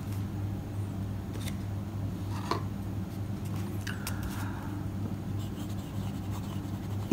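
Legend Executive fountain pen with a medium nib writing on paper, soft scratchy nib strokes and faint taps spread over a steady low background hum, with no talking.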